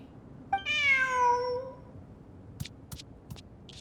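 A video game cat gives one clear, drawn-out meow with a falling pitch, followed by a few faint clicks against quiet background.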